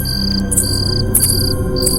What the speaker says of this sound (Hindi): फिर से वही पायलों की आवाज।